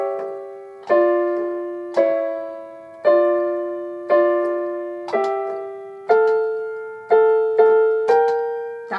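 Piano chords from the Pirates of the Caribbean theme played slowly and close, about ten separate struck chords in a steady even rhythm, each ringing and fading before the next, alone without talk.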